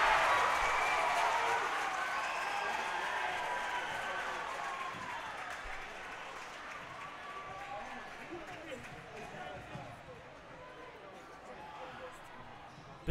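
Basketball crowd roaring and cheering after a steal and dunk in a gym, loud at first and slowly fading, with a commentator talking over the noise.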